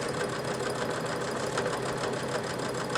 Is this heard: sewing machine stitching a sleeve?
yes